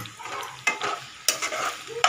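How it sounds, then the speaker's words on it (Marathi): Onions for biryani are stirred in an oily pan: a soft sizzle broken by three sharp scraping strokes of a spatula, heard close with no voices. "मस्त परतून घेऊया"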